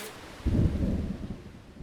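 Heavy rain pours down outside a terreiro's barracão, a low rumble of thunder swelling up after a brief pause and then rolling away beneath the steady hiss of rainfall.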